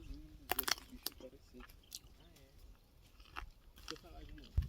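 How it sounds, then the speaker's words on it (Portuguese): Someone bites into an umbu fruit at a market in Chapada Diamantina, Bahia, with a few close, wet crunching bites and chewing sounds, mixed with someone talking over a busy background. "Deixa eu dar uma mordida, que o Pedro não fez isso."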